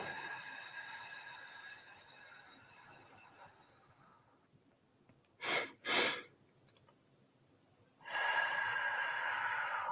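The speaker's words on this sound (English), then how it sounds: "Double inhale. Slow exhale." A guided breathing exercise: a long airy exhale, then two quick sharp sniffing inhales in a row, followed by another slow, steady exhale, close and quiet.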